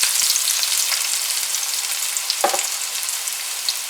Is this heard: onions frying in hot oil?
yes